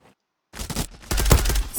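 Gunfire in the online shooter Zula: after a brief near-silence, rapid automatic bursts rattle out loud and close, ending with a denser fusillade.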